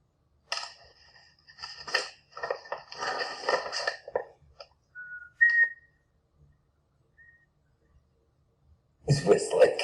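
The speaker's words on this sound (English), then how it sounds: "He's whistling." A person whistles short, faint tones between stretches of nearby talking during a select board meeting, with quiet gaps in between.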